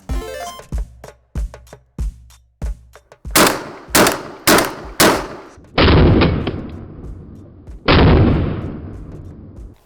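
A series of loud gunshots: a rapid string of sharp reports, then several heavy booming blasts spaced a second or two apart, close and echoing.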